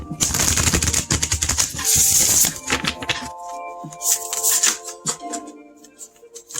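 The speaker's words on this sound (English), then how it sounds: "Let's get one more, make sure they're super shuffled." Tarot cards are shuffled in rapid, crisp riffles and taps close by, loud at first and then thinning into scattered clicks.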